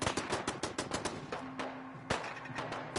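Rapid bursts of automatic gunfire from an enemy in the video game Fallout 4, sharp repeated cracks in quick succession, loud and continuous with no talk over them.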